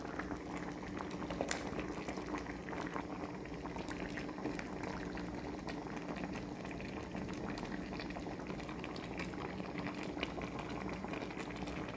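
Coconut milk for ginataang isda bubbling at a steady boil in a pot, a dense, continuous simmering hiss with soft popping throughout.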